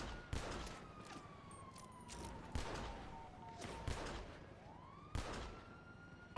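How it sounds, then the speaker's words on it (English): Distant gunshots in GTA V roleplay near a beach, several sharp cracks spaced irregularly at low volume, with a siren wailing faintly in the background. "That's me. Shooting down the beach."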